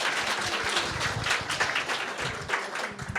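A crowd applauds finalists at a women-in-cybersecurity competition finals event: dense, steady clapping from many hands that stays loud and even throughout.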